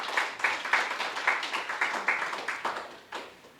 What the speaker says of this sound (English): give yourself a big round of applause for that